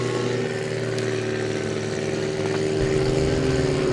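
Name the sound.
BMW Z4 hillclimb race car with LS V8 engine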